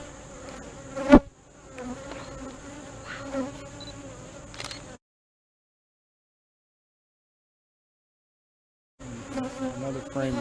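Honey bees buzz close on a hive frame loaded with bees, a dense steady drone broken by a sharp click, a stretch of dead silence, then the buzz returns.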